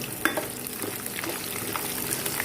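Peeled garlic cloves fry in oil with a continuous close sizzle, overlaid by scattered scraping and clinking stirs throughout.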